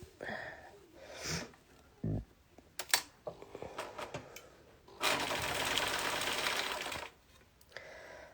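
A home sewing machine fitted with a stretch needle stitches in a loud, close, steady two-second whirring run, preceded by scattered handling clicks and rustles of fabric.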